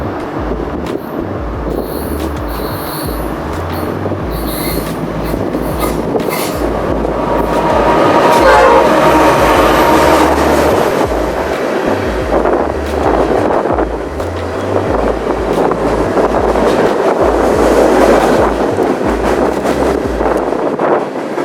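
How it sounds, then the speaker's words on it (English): A train rumbles past up close at High-Line Station in Greencastle, Pennsylvania, a loud, steady roar of wheels and cars with wind buffeting, swelling in the middle and continuing without a break. "That train's finally here."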